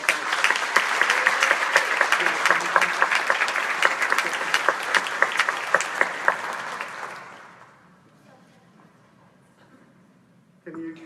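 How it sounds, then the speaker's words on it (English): Conference audience gives a round of applause, a full room clapping steadily for about seven seconds before tapering off into near silence, then a brief rustle. "let's give them a round of applause"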